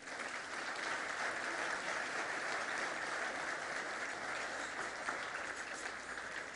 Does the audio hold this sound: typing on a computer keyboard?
no